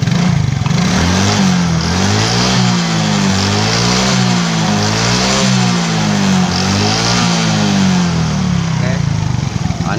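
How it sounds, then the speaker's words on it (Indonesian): A motorcycle engine, fitted with new piston rings, revs up and down in steady repeated surges, loud and close, with a smooth but rough-idling rumble underneath and no talking. "Ini suara mesinnya."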